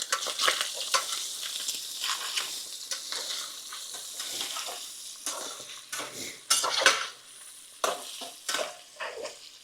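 Browned Italian sausage sizzles in a pan while a utensil scrapes and stirs it, producing irregular bursts of crackle and clatter up close, with no voices.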